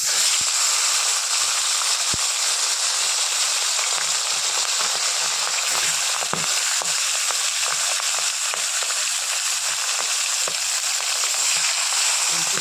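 Fish pieces frying in hot oil in a pan for a spicy fish curry: dense, continuous crackling sizzle up close with scattered pops and an occasional utensil tap, steady and loud throughout.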